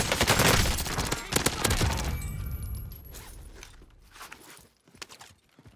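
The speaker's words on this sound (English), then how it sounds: "They're shooting at me from that building." Rapid bursts of enemy gunfire in the shooter game Warzone, loud and dense at first, then thinning into scattered distant shots and clatter.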